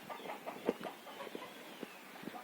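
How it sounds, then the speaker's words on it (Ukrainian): Soft, scattered clucks from small bantam hens in a Ukrainian village, irregular short notes at close range with faint background rustle, no talking. "Тут у нас живуть такі карликові курочки, пітушки."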